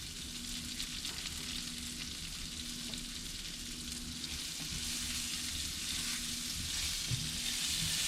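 Cabbage fries in smoky oil in a pan, a steady close sizzle and crackle throughout with occasional faint stirring clinks.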